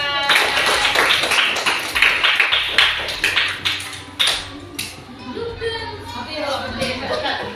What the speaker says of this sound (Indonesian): Ya, tepuk tangan untuk Melisa